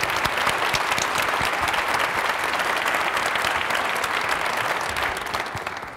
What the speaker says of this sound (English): another round of applause for this tremendous expertise